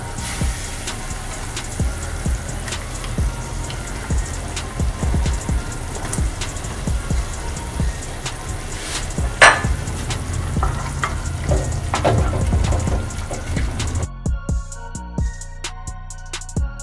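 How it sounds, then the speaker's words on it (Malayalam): A pot of Kerala-style river fish curry gravy bubbles and sizzles steadily, with a constant crackling simmer and occasional louder pops, no voices. "ഇപ്പോൾ നമ്മുടെ ഗ്രേവി തിളച്ചറിൽ ശരിക്ക് നമുക്ക് അതിലേക്ക് മീൻ ഇടാം"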